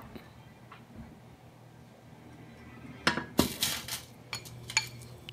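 A frying pan being oiled on the stove before sausage goes in, quiet at first, then a burst of close metallic clinks, scrapes and sizzling clatter in irregular bursts, with no voices.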